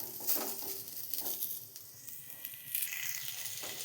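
Potatoes frying in hot oil in a wok, giving a steady soft sizzle and hiss with scattered crackling pops throughout, close and moderately quiet, no voices.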